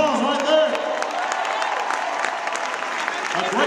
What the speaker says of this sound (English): Give him a big round of applause right there.